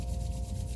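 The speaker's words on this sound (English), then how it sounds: "we're going to start to rub the palms against one another" Palms rubbed together fast and hard for friction during chair yoga produce a soft, continuous close swishing, brief and even.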